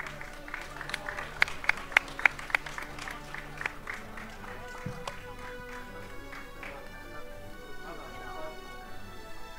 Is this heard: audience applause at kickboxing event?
yes